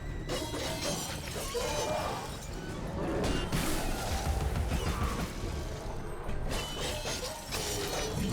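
The pepper grinder gun in Alice: Madness Returns fires continuously in a dense stream of rattling mechanical shots. Crashing, shattering impacts are mixed into the busy game action.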